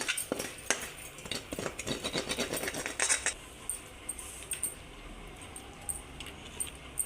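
Cooled rice being mixed with tempering for Andhra-style mango pulihora, quick scraping and clinking of a spoon against a vessel in the first half, then quieter scattered taps, close and fairly soft.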